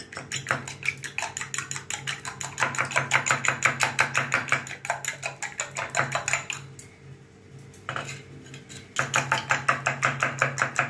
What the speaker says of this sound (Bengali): ডিম নিয়েছি, একটু গোলমরিচের গুঁড়ো, এটাকে ফাটিয়ে নেব।